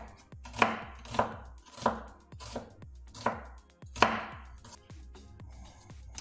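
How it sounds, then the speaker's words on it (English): A santoku knife with a hollow edge slices pork thin for a stir fry, each cut landing as a crisp chop on the board, about eight in a fairly steady rhythm, close and clear with no talking. "so I'm just gonna cut it like this, thin, that's it."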